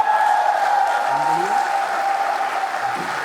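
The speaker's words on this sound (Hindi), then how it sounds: "एक बार सारे लोग हमारी अंतरिक्ष संस्था इसरो के लिए जोरदार तालियां लगाएं" Loud, dense applause from a seated audience at a Hindi comic poetry gathering, sustained clapping from many people with a brief murmur of voices and a faint tone running beneath it.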